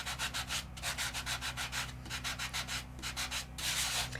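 A four-sided sandpaper block rubbed back and forth over a craft surface, a steady run of rhythmic rasping strokes, close and clear, with a short pause partway and no voices.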